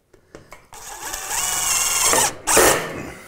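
A cordless power drill drives screws into the corner of a bulkhead or soffit frame: a few short taps and blips, then a sustained whirring run that rises in pitch, a brief stop, and a second loud burst of drilling.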